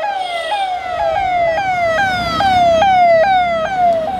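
A loud ambulance siren wails nearby in a fast repeating pattern of falling tones, steady and unbroken until it cuts off at the end.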